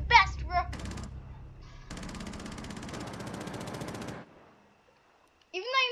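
Rapid automatic gunfire from a first-person shooter video game rattles steadily for a couple of seconds, with a few separate shots before it. Chatter and game sounds come at the start, and a voice is heard at the end.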